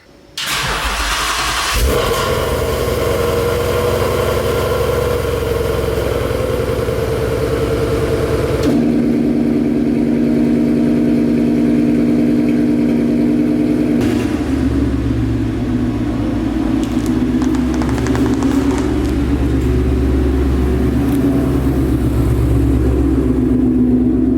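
A car engine cranks and fires up, then settles into a steady idle before several sustained revs, loud and close for the whole stretch with no talking.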